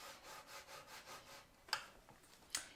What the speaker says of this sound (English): go ahead and score it all the way down